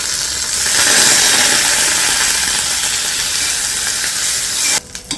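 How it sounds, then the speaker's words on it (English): Butter melting in a hot skillet on a stove sizzles with a loud, steady frying hiss that runs throughout, then cuts off abruptly near the end, leaving a few soft clicks. "Put the butter in and let it melt"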